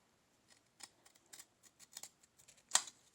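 Scissors snip through card in a string of short, quiet, close cuts at an uneven rhythm, ending with one sharper, louder snip.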